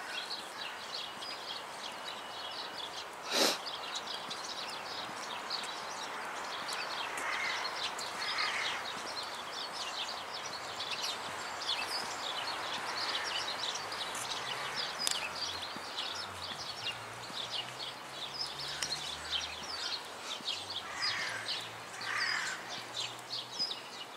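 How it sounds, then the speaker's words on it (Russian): Birds call and chirp faintly through steady outdoor ambience, scattered over a long stretch, with a brief sharp knock near the start and no talking. "Птички поют, как слышите."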